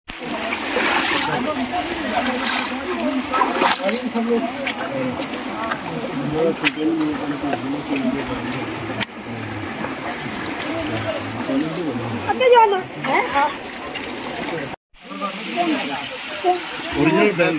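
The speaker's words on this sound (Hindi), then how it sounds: "ये पानी ऊपर से आ रहा है, पानी क्रिस्टल क्लियर है" Crystal-clear water flows down and splashes at Khanpur Dam, a constant rushing wash heard close by, with voices talking over it and a brief drop in sound near the end.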